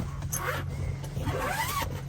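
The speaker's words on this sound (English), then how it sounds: "The trucks have fired up." Trucks in a parking lot fire up their engines nearby, a steady low rumble with rising whine and revving sweeps, continuous and fairly loud.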